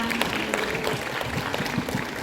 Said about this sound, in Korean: 이수진 연구위원님께 다시 한번 감사의 박수 부탁드립니다